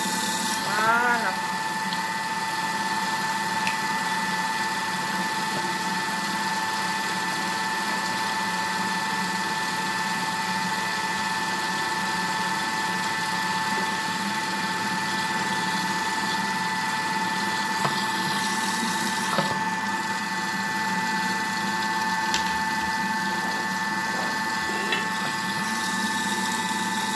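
A food processor whirs at speed 4 while cream is poured in through the lid opening, a steady motor drone with a high tonal whine that runs unbroken throughout, with faint clatter over it.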